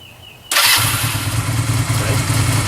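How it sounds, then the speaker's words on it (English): A motorcycle engine starting during a first riding lesson, with a sudden loud catch that settles into a steady, throbbing idle close by, after a faint tone beforehand. "let's start your bike again"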